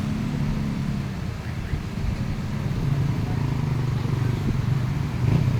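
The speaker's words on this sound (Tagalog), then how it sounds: "Medyo traffic dito, no? Sa Talipapa." Steady road traffic in Talipapa, a continuous low rumble of car and motorcycle engines nearby with no clear individual pass-bys, holding at a constant level throughout.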